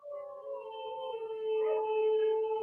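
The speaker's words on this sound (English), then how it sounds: "There's a bunch of huskies next door, and they just go crazy." A pack of huskies next door howls in long, sustained, wavering tones that overlap and rise together over a few seconds, fairly close and with no talking.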